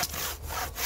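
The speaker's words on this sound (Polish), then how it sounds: "nie ma co piłą na siłę dociskać, tylko dać po prostu pile pracowy" A Silky Bigboy 360 pruning saw cutting through wood: rasping strokes with two short pauses between them, close and loud, with no talk.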